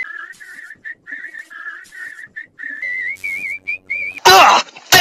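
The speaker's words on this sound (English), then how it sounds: "While you were just standing there whistling" A person whistles a warbling, melodic tune in short phrases, with a brief burst of harsh noise near the end.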